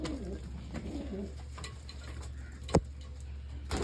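Soft, low pigeon coos murmur in the background over a steady hum, with a couple of sharp clicks standing out near the end.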